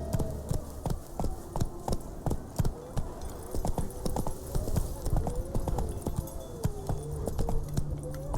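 Geralt's horse Roach trots in The Witcher 3: Wild Hunt, a steady loud clip-clop of hooves with even rhythm, accompanied by faint background music and brief tonal sounds.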